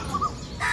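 A crow calls nearby: two quick short notes followed by a longer, harsher caw.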